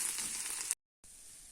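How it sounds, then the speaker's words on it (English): Two medium onions fry in a pan with a bright, steady hiss of sizzling oil, broken by a brief silent gap before the quieter sizzle resumes. "I'm just frying off 2 medium onions."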